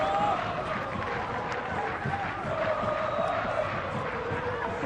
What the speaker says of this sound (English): the home crowd delighted with the start that their side has made.